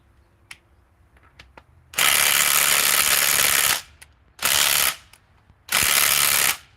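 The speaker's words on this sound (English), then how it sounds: "Let's see if the Ryobi can remove it." A Ryobi power tool fires in three loud bursts, about two seconds, then one second, then one second, struggling to remove a stuck fastener, with quiet ticks and shuffling between the bursts.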